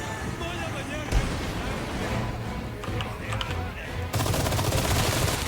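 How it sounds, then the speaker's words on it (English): Gunfire in the Resident Evil 4 Remake game, a sharp shot near the start and a dense burst toward the end, heard over ongoing game sounds with talking throughout. "We shoot him with the gun"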